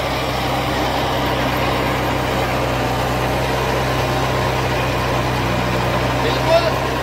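Kubota 4x4 tractor engine running steadily with a rotavator attached in a field, a constant low droning hum with no breaks, heard close and loud throughout.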